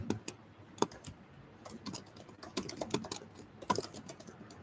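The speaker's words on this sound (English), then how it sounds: "I don't know why am I typing instead of speaking." Rapid clicking keystrokes on a computer keyboard come in irregular bursts, close and fairly quiet, with no talking over them.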